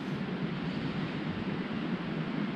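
Steady broadband rush of a flowing creek at an early-morning high-country campsite, continuous and fairly loud, with no voices or other distinct sounds.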